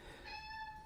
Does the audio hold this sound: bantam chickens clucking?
no